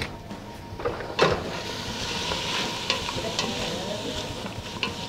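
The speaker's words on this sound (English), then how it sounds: "All right, that's nice and sizzling." Onions sizzle and crackle steadily in a hot pan, with a few louder scrapes and clinks of a utensil stirring them through the continuous frying hiss.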